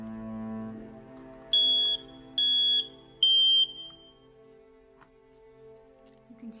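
An apartment smoke detector with a low battery gives three loud, high electronic beeps in a row, each about half a second long, over a quiet low hum.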